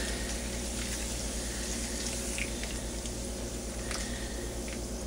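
Root beer splashes and gurgles steadily as it is poured over beef ribs, with a low mechanical hum underneath throughout.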